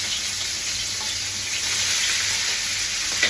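Sea cucumber tossed in a hot wok gives a steady, loud, close sizzle with no break, and a faint knock comes right at the end.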